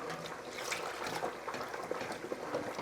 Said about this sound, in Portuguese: Depois que eu pus o fubá, eu despejo a água fria.